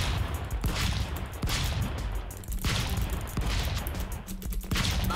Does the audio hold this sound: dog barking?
no